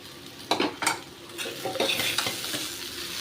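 Mashed potato with salt and turmeric stirred in a frying pan for poori masala, a few sharp scraping strokes over a soft sizzle, close and alone without talk.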